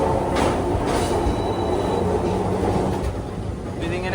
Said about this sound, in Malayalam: ഇവിടെ നിന്ന് ട്രാം പുറപ്പെട്ടു.